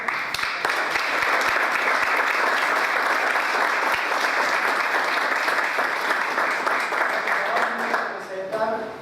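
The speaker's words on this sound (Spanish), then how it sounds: "debemos agradecer con un aplauso por María Monta." An audience at a political training class applauds a speaker, sustained loud clapping from a room full of people that fades out at the end.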